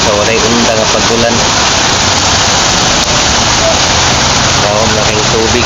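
Heavy, unceasing rain pours down on a flooded village neighborhood, a dense steady hiss throughout with a voice speaking over it at times.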